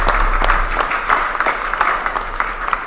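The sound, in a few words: audience applause at church meeting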